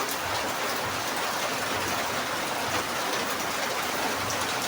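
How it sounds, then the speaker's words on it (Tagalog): Morning rain falling steadily and heavily, a dense continuous hiss of drops on surfaces with no breaks, close and even throughout, no voices. "yung ulan talagang halos 3 araw na yata o 4 na araw na ganyan yung panahon, umuulan at ngayon ng umaga yan"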